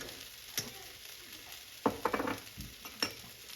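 Butter sizzles after landing in a hot frying pan along with olive oil. A faint hiss runs under several sharp clatters and scrapes of a utensil against the pan, and nobody speaks.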